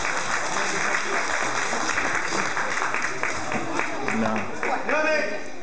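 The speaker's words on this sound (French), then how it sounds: "Merci les enfants pour les applaudir." Children at a karate kumite tournament clap together in a lively, continuous burst of applause, with voices calling out over the clapping.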